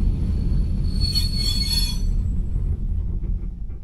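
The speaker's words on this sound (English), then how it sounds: "Train stopping, not sure why." High metallic wheel squeal rises over a steady low rumble of a passenger train stopping in Montenegro, peaking then fading as the rumble continues.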